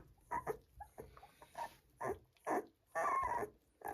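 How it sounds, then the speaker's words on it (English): A Labrador puppy having its first bath whimpers and yelps in short, high, whiny bursts, close by and fairly quiet, with small splashes and shuffling between cries. "how did I know you were going to be a noisy one, Joy?"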